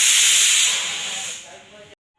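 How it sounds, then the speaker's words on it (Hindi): Pressure cooker whistle releasing steam in a home kitchen, a loud steady hiss that slowly fades over about two seconds and then cuts off abruptly. "ये कुकर बजे ही जा रहा है, बजे ही जा रहा है, धड़ाधड़ धड़ाधड़"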